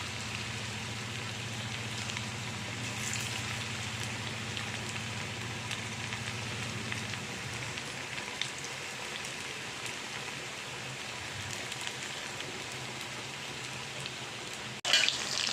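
Chicken 65 pieces frying in hot oil, a steady, dense crackling sizzle that holds evenly throughout, with a low hum underneath early on and a brief clatter near the end.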